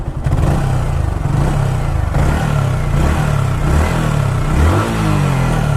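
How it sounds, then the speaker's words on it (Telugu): A second-hand Yamaha R15 motorcycle idles close by with a steady, throbbing engine note, then revs up sharply near the end. "ఇంజన్ సౌండ్ కూడా మళ్ళీ ఒకసారి వినిపిస్తాం మీకు ఎంత బాగుందో ఇంజన్ సౌండ్"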